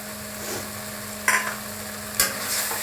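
Prawn poppy-seed masala with sugar being stirred in a sizzling pan for Bengali chingri posto, a steady frying hiss broken by two sharp spatula scrapes, no talking.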